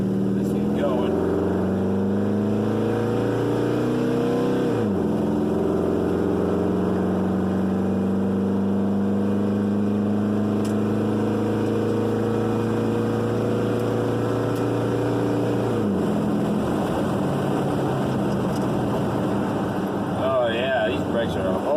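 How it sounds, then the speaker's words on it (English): A car engine drones loudly and steadily, its pitch climbing, then dropping sharply twice in hard braking to bed in new pads and rotors, with rougher noise near the end. "Really hard brake. Do that 3 or 4 times."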